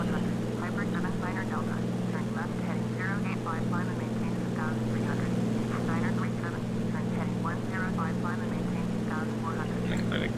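A Beaver floatplane's propeller engine drones steadily at full power during a flight simulator takeoff in Alaska, loud and constant throughout, with a voice talking over it.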